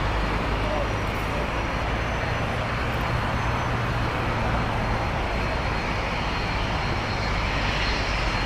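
A jet airliner taxiing at LAX gives a loud, steady, continuous engine roar and broadband rumble for the whole stretch, with no break and no gaps.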